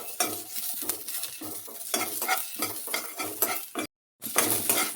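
Garlic and onion fry on a low flame as a spoon stirs and scrapes the pan in quick repeated strokes over a close sizzle, with a brief silent gap near the end.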